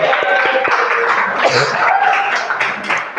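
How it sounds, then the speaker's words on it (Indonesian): A group claps together at a university classroom ice-breaking session: dense, steady applause that carries at fairly even loudness throughout, with a voice faintly present underneath. "Oke, tepuk tangan untuk kita semua pada hari ini."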